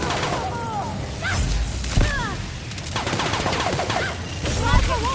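Rifle fire in the sci-fi video game The Outer Worlds, scattered bursts of shots and thuds amid busy combat sounds and chirping effects, with voices mixed in.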